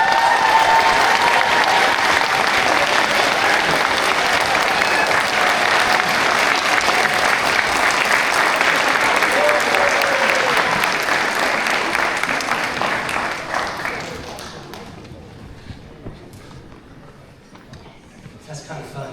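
Sustained, loud applause from a graduation ceremony crowd at Florida State University's social work commencement, steady for over ten seconds before tapering off into scattered claps and murmuring.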